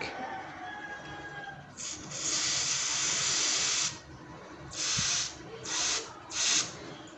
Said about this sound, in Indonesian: Kita semprot saja seperti ini biar kotorannya bisa keluar.